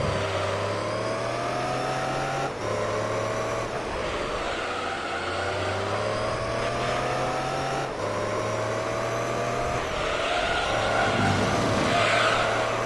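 Race car engines in Gran Turismo 3: A-Spec during a Professional GT All Stars race, chasing a Mazda: a steady, loud droning whine that rises through the revs, with brief dips at gear shifts and a rougher burst near the end.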